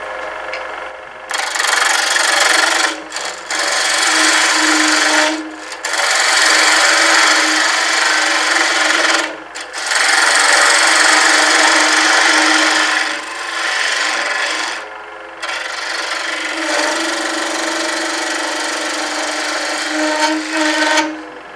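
A wooden acorn ornament turns on a lathe while a carbide tool carves it, giving loud, steady scraping and rasping cuts in long passes. Short pauses separate the bursts, and no one speaks.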